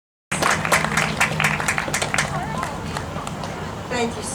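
After a brief silence, applause breaks out at a 2021 festival tribute event, a crowd clapping with chatter and shuffling underneath.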